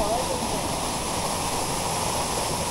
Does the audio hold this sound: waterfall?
yes